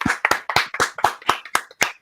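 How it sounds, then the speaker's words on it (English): Studio audience applause welcoming a radio guest onto a show, a short burst of close, sharp rhythmic hand claps without any voices. "that's the first time I've been applauded"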